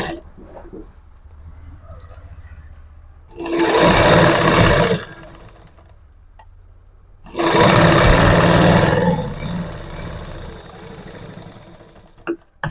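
Sewing machine stitching through two layers of cloth while sewing the front part of a garment, two loud bursts of rapid motor-driven stitching separated by a quiet pause, with no talk over them.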